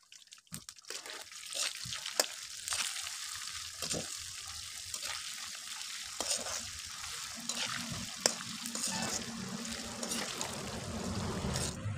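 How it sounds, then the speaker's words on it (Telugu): Cumin, garlic and dried red chillies sizzle in hot oil, a steady crackling fry with sharp spits and pops that carries on without pause through the whole stretch. "ఇప్పుడు అవన్నీ వేసి బాగా నూనెలో ఎంచేసుకోవాలి"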